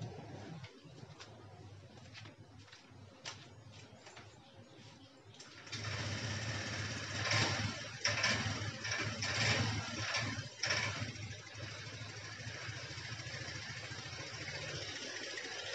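Honda Vario 125 scooter with an initial throttle fault, its engine idling with a steady high buzzing rattle that starts softer, then jumps louder about midway and holds a continuous fast whir, close by.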